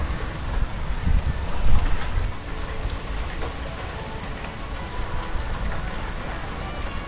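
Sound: first monsoon rain of Sawan falling

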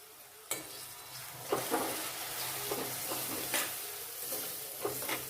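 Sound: spices with water being stirred and frying in pan

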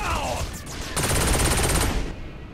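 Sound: gunshots in the video game Saints Row IV

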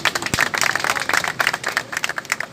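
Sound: crowd applause welcoming a political candidate

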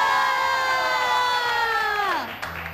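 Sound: crowd cheering and applauding

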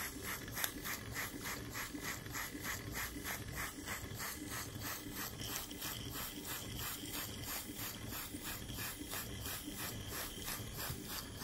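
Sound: model beam steam engine running

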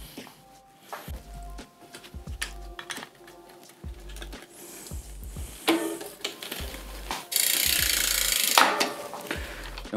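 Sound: tightening a bicycle part with a tool

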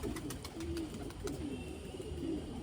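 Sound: pigeons cooing

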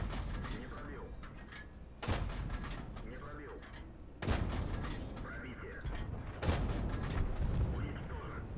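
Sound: tank cannon firing rapidly, T-34 in a tank video game

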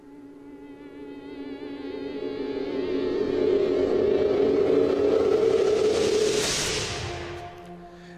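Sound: cinematic hit sound effects with fades, made in Cubase

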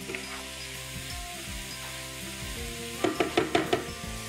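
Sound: vegetables with chopped tomato and chillies sizzling in pan

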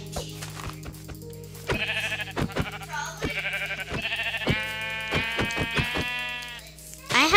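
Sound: sheep bleating in the video game Minecraft

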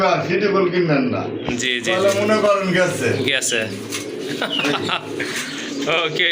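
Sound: pigeons cooing at a pigeon sale

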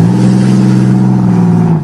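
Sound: Chevrolet Lumina car engine revving

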